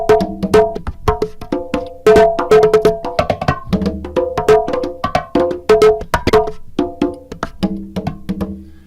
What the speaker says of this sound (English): a traditional go-go rhythm kind of borrows the wan-wan-ko rhythm